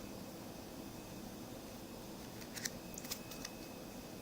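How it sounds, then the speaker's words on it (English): An old-fashioned deck of playing cards is shuffled for a solitaire game. After faint steady hiss, a short burst of quiet, crisp riffling clicks comes near the end. "shuffle the deck"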